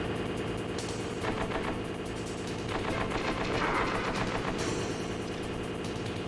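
Rapid automatic gunfire from the PlayStation classic Metal Gear Solid rattles on without pause at a loud, even level, mixed with a low engine-like rumble.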